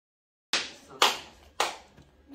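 A small group claps for Taji in a casual home setting, three short bursts of hand claps that each fade quickly, fairly close and with no talk over them.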